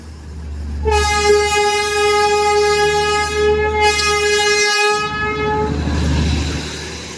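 A Darjeeling toy train horn blasts loudly and steadily for several seconds, briefly dipping then resuming, over a low rumbling engine and rolling noise.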